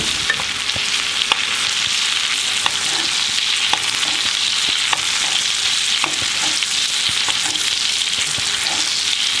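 Steak basted with melted butter and garlic in a cast iron frying pan over lowered heat gives a steady, close sizzle and crackle that runs unbroken throughout, with occasional small pops and no talk.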